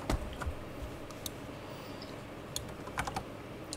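Fingers tap a computer keyboard in quick, irregular bursts of clicks, close and fairly quiet over a low steady background hum, with no voices.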